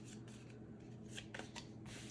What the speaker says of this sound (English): Kind of difficult to shuffle this tiny little deck